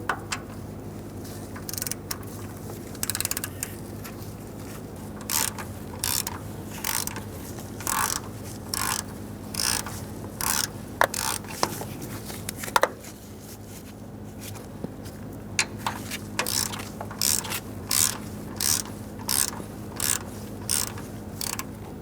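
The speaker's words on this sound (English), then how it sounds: "Using a 14mm socket, we're going to remove the two lower bolts holding on the starter." A hand ratchet with a 14mm socket loosens the lower starter bolts on a 1988-1999 GMC K1500 with a 5.7L V8, giving steady repeated clicking bursts up close that pause and resume, with faint background noise and no talking.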